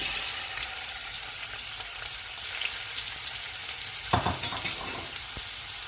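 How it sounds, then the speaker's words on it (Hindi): Sliced onions fry in hot oil for a mutton stew, a dense, close sizzling crackle with stirring scrapes near the end, steady and loud with no talk. "ऑयल अभी गर्म हो गया, इसमें प्याज डाल देते हैं।"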